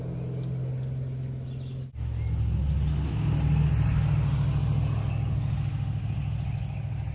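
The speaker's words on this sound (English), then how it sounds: "there's an annoying car in the background" A car engine rumbles in the background, a steady low drone that briefly cuts out, then swells louder as it passes nearby, with no speech.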